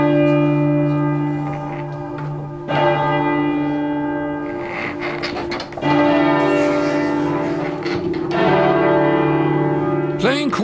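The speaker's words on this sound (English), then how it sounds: "Playing chords on church bells is rare." Several church bells in Cambridge strike together in ringing chords, each stroke blooming and sustaining with long overlapping decays, struck again every couple of seconds.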